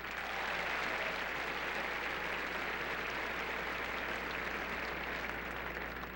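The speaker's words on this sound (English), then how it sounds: "How about a great round of applause for our tournament co-chairman" Steady, dense applause from a tennis tournament crowd at an awards ceremony, a continuous even wash of clapping heard at moderate distance with no talk over it.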